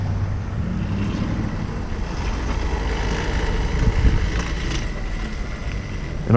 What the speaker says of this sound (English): already this chain is so loud